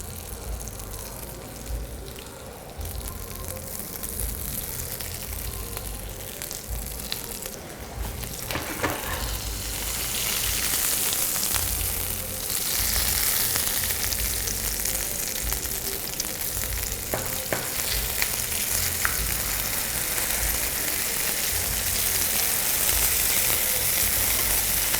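Polenta pieces fry in a hot pan with a steady, broad sizzle across the whole stretch, rising a little louder after the first several seconds, with occasional stirring and clatter and no one speaking.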